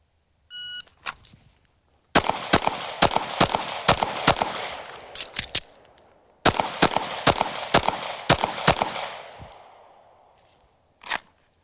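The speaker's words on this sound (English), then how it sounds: "let's go ahead, get our ears on, and let's shoot it." Pistol shots fired during an El Presidente drill on a range: two rapid strings of sharp, loud reports, each about half a dozen close-spaced cracks, with a pause between strings and a single shot at the end.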